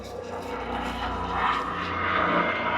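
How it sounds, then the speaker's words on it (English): Aircraft passing overhead close to an airport, a steady broad engine roar that holds throughout and swells slightly louder toward the end, with no talk. "Sorry about the planes, guys, but I do live near an airport."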